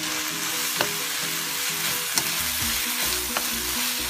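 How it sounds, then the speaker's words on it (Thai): Pork being stir-fried with curry paste for Thai khua kling, a steady close sizzle with spatula scrapes and clinks against the pan throughout. "ก็เอาหมูเข้าไปผัดรวมกับเครื่องแกงนะคะ"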